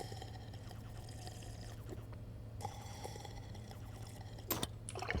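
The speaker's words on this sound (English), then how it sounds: "let's drink some water" Water is drunk in the game Stationeers, faint soft pouring and gulping sounds with small clicks over a low steady hum.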